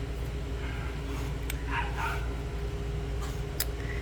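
A dog yips and whimpers a few times, faint and somewhat distant against a steady low background hum, in a home where it is pestering cats.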